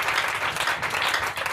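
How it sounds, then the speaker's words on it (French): Church congregation at a Sunday evening service applauding steadily, a continuous wash of clapping with no pauses for the full short stretch. "Acclame encore Jésus."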